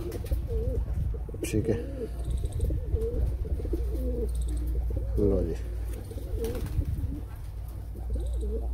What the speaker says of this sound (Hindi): ये लो जी, कबूतरी का भी शौक कराते हैं, देखो भाई कबूतरी का भी करो शौक